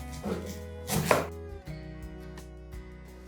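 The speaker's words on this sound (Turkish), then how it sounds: "sıra geldi soğanımıza bir adet soğan kullanacağız. Onu da aynı domatesi kestiğim şekilde keseceğim." A knife slicing an onion on a board: a few soft crunchy cuts early, then a series of light evenly spaced taps against the surface, close and quiet with no speech.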